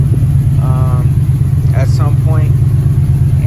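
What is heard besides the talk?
1995 Chevrolet Impala SS car engine running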